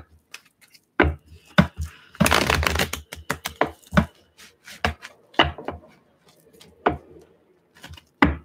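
Tarot cards are shuffled by hand in a run of crisp taps and riffling bursts, one longer ripple partway through, close and fairly loud between short pauses.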